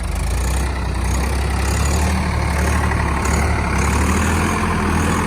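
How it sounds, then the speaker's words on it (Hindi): A new Swaraj 855 tractor running a rotavator in a field gives a steady, loud, low engine drone with continuous churning rumble throughout, no voices. "चला दिया भाई रूटावेटर अपने नए 855 पे।"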